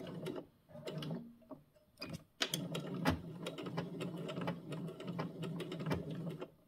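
A sewing machine runs stitches along fabric while sewing gathers, with its needle ticking rapidly and steadily in close, moderately loud bursts and brief pauses between runs.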